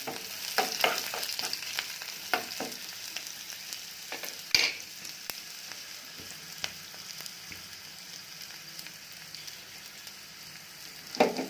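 Spices crackle and sizzle in hot oil as a tempering for an Odia yogurt okra dish, with sharp pops early on settling into a steady, quieter frying hiss.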